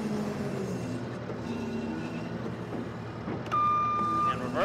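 A JLG 8042 diesel telehandler, 8,000 lb class, rumbles nearby with engine and mechanical noise, then its reversing alarm starts near the end as a steady, loud electronic beep over the running engine.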